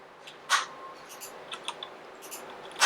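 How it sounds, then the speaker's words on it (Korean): Light keystrokes on a computer keyboard while drafting a flag design in CAD software: a few sharp, quiet clicks and taps scattered irregularly, close by, with no talking. "제가 키보드에 있는 딜리트 키를 눌렀습니다."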